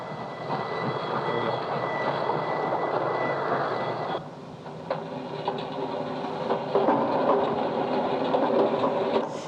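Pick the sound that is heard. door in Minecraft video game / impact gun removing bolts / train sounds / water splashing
train sounds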